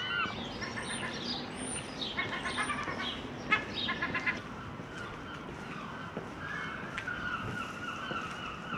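Seagulls call over a quiet coastal fishing village near Aberdeen, with several bursts of harsh repeated cries and a few thin high squeals in the first half, then calmer open-air ambience with occasional distant chirps.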